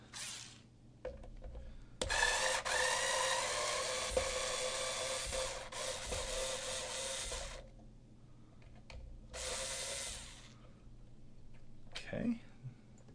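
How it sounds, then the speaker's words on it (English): An electric screwdriver drives screws into a STRICH electric guitar in several long whirring runs separated by pauses, close and moderately loud, ending with a few small clicks and knocks. "I have an electric screwdriver right here."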